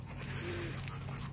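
A dog pants steadily and rhythmically close by, a continuous low breathy sound running the whole short moment with no speech over it.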